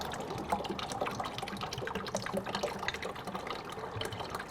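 Water pours steadily into a container holding turkey brine concentrate, a continuous close splashing and gushing that runs without a break and carries no voices.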